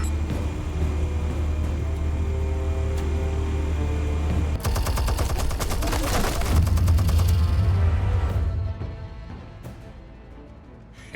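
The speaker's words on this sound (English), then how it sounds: "Explosives armed. Fire when ready." Rapid automatic weapon fire and explosive blasts from a Batman video game burst over a rumbling background drone, peak in a dense volley, then taper off into quieter distant shots.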